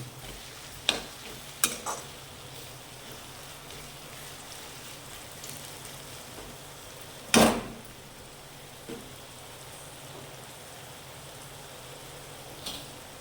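Aloo poha stirred in a pan over a low frying hiss, with scattered spoon clinks and one louder scrape against the pan, no talking.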